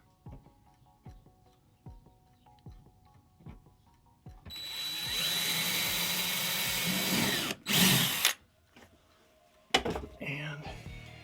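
A power drill drives screws into bus window trim. A run of quiet ticking clicks comes first, then a loud sustained whir with short bursts and stops at close range, under some talk.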